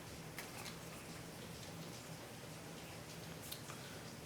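Steady, dense rain pours down continuously at an even loudness, with scattered louder drop ticks over a broad wash and a faint low hum beneath it.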